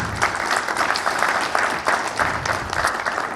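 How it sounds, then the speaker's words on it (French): Conference audience at PGDay France in Toulouse applauds their Météo France hosts, a loud, dense crowd clapping held steady throughout with pulsing swells. "vous pouvez les applaudir"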